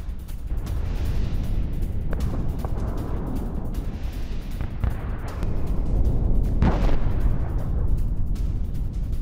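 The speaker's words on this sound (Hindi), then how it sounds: "IDF के भारी धमाके से दहला हमास बेस।" A sustained, heavy rumbling roar of explosions with deep low booms throughout, building louder toward the end, with no voices.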